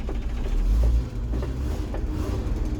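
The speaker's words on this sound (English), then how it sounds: "I do like this truck." A deep pickup truck engine rumbles steadily close by, with a brief louder surge early on before settling back into an even idle.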